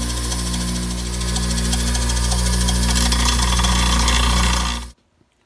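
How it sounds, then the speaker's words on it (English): Bench grinder grinding the heads off air nails, a loud steady motor drone with a gritty metallic rasp that runs for about five seconds before cutting off abruptly, leaving silence. "So we're using another tool, and this is what? Bench grinder."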